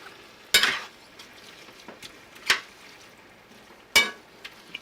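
Seasoned food stirred in a pan on a stovetop over medium heat, with a few sharp utensil scrapes and clinks against the pan over a quiet background, close and unaccompanied by talk.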